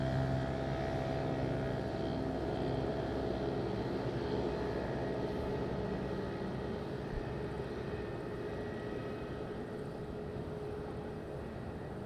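A Transavia airliner takes off from runway 05 at Madeira airport, its engines a steady distant roar with a low rumble and faint tonal whine, holding level and unbroken for the whole stretch.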